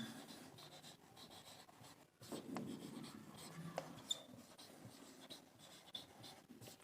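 A pen scratches across paper while notes are written by hand, a faint, close, steady scribbling with short pauses and strokes, no talking over it.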